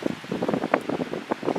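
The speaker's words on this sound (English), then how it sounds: "It's still pretty windy." Gusty wind at a campsite, a steady broadband rush with fluctuating surges, close to the microphone and heard alone without voices.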